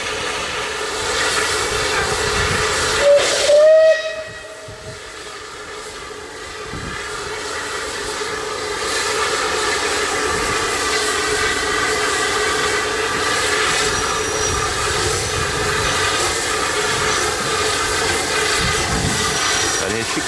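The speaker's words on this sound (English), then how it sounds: "there's our train making a load of noise" A heritage steam train on the Nene Valley Railway rumbles steadily nearby, with a brief whistle early on against a continuous roaring background.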